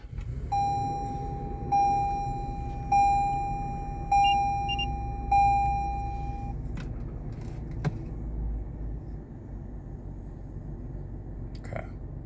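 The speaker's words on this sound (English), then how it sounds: "I'll go ahead and turn on the vehicle." A 2022 Toyota 4Runner Off-Road Premium is switched on, sounding five evenly spaced electronic chimes over about six seconds inside the cabin, followed by quiet interior hum and a couple of faint clicks.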